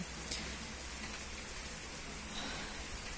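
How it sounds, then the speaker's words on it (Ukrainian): Autumn rain falls steadily outdoors, a soft continuous hiss of drops on surfaces, faint and even throughout with no voices. "А дощ все не закінчується. Ото як почався вночі, так і йде."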